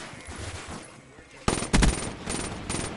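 M8 rifle fire in a first-person shooter match, a short rapid burst of close, punchy automatic shots followed by a few more quick volleys over background game noise.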